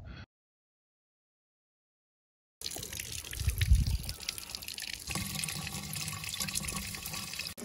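Grey water trickling from a DIY recycling system through an improvised burnt-log charcoal filter into bark mulch, a steady close wash of running water after a brief silent gap.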